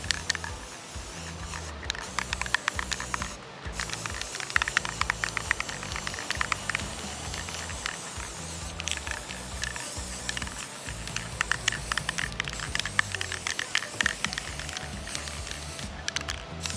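Paint sprayed in a light coat onto an outdoor sign, a close, steady hiss broken by brief pauses and clicks over about seventeen seconds, with no talking.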